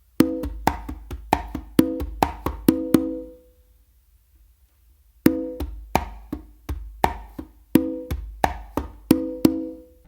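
A full slappy tumbao groove on conga: crisp slaps and resonant open tones in a steady repeating pattern, a short pause midway, then the pattern resumes, close and solo with no talking.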